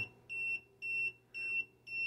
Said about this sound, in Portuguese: Quanto mais próximo da energia, ele pisca e bipa mais rápido e a barrinha sobe